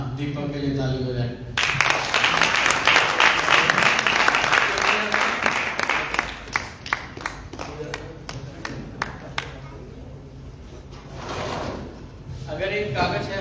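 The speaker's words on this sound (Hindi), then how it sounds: "दीपक के लिए ताली हो जाए।" An audience claps for Deepak during a church sermon: a dense burst of applause lasting several seconds, then scattered single claps that fade out, with talking heard before and after.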